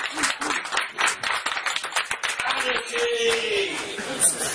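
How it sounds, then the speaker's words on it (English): An Edinburgh stand-up comedy audience claps and whoops as the comedian takes the stage, with uneven, fairly sparse clapping from a small room and voices chattering underneath. "give a round of applause and cheer and whoop as I bring on myself"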